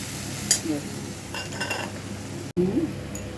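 Black cumin seeds sizzle in hot oil as a tempering for a catla fish dish cooked with coconut, a soft steady crackle with a few close stirring clinks and scrapes against the pan.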